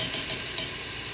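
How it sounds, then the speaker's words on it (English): Garlic sautés on medium heat in a pan for chicken and rice soup, making a quiet, even sizzle with a few soft, regular stirring ticks over about a second. "I'll let the garlic cook just about 1 minute, not much longer"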